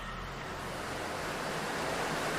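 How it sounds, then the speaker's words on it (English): A river flows steadily nearby, giving a constant, even rushing wash of water that holds at the same level throughout, with no voices over it. "with the sound of the river flowing in the background"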